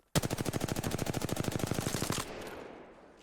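A single sustained burst of automatic fire from a gun in the video game Apex Legends, about two seconds of rapid, evenly spaced, loud shots, then a short fading tail.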